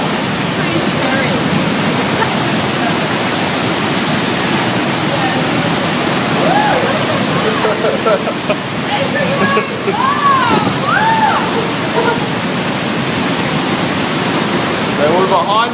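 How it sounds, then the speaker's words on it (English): A waterfall roars from directly behind the falls, a loud, steady, unbroken rush of water filling the whole clip, with people's voices talking faintly over it. "So we're behind the falls at the moment"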